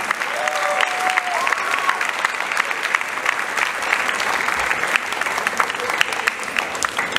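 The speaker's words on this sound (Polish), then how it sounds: "brawa." Sustained audience clapping at the 46th FAMA festival closing awards in Poland, even and full throughout, with brief faint voices mixed into the applause.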